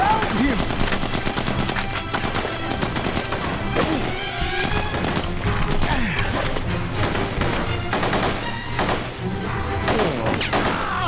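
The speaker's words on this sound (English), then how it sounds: "You shoot him. Keep shooting him." Gunfire in the video game The Punisher: rapid, dense bursts of automatic shots and impacts rattle almost nonstop for several seconds, loud and close, with a few heavier thuds mixed in.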